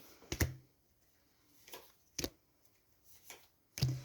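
Brisk riffles and taps of tarot cards being shuffled come in short bursts, separated by quiet pauses, close and fairly soft.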